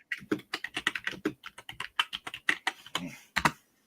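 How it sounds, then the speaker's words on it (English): Rapid, uneven typing on a computer keyboard, close and crisp, a steady run of clicks and clacks with brief pauses, no talking over it. "if my typing is loud"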